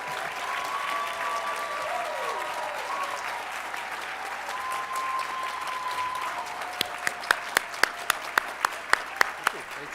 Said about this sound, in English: Please, let's have another round of applause for our graduates.